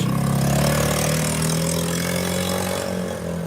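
Nearby motor engine drones loudly and steadily with a low hum, fading slightly toward the end as it moves past.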